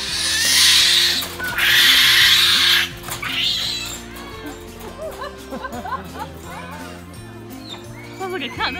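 Monkeys at a primate park call back and forth with loud, wailing cat-like cries in two long bursts, then shorter chirping calls follow, while people talk nearby.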